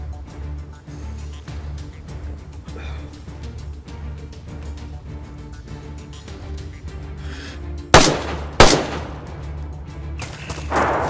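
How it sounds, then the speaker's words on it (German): Two loud, sharp gunshots crack close together in DayZ over a low, droning game background, followed by a quieter burst near the end. "Ich höre die Schüsse, ja."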